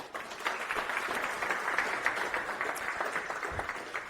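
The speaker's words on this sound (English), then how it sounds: "Round of applause, please" Audience applause at the Capitole du Libre open-source conference in Toulouse, a steady wash of many hands clapping that holds evenly for about four seconds, moderately loud, with no voices over it.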